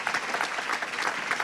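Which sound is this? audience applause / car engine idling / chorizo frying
audience applause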